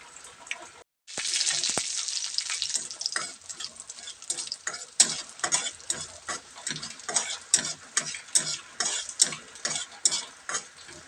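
Mustard seeds splutter in hot oil in a pan for bitter gourd thoran, a close, crackling sizzle broken by rapid, repeated sharp pops that keep coming in an uneven rhythm.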